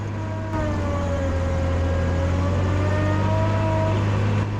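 A heavy vehicle rolls past very close on a slick, muddy road at night in the rain, with a loud, sustained engine drone and a slowly shifting whine that swell and hold without any talk.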